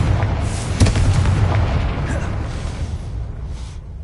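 In the video game Hogwarts Legacy, a Confringo fire spell blasts at a gate, a sudden booming explosion with a rumbling crackle that fades over a few seconds.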